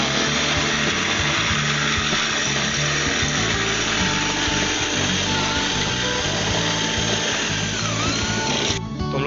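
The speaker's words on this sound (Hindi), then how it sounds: "हम लोग 10 mm की ड्रिल बिट यूज़ करेंगे जो आउटलेट वाला जो होल है उसे बड़ा करने के लिए" A power drill fitted with a 10 mm bit widens the water outlet hole in a window frame, running loud and steady for about nine seconds before winding down at the end.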